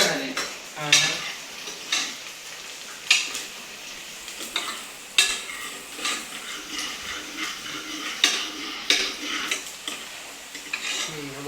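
Onions stirred in a pan while cooking khichdi at home, a spoon scraping and clinking against the metal in repeated strokes every second or two over a faint frying hiss, close and fairly loud, with no talking.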